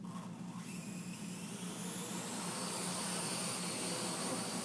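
A Parrot AR Drone whines steadily as it lifts off and hovers indoors in a newsroom, its rotor buzz loud and continuous throughout.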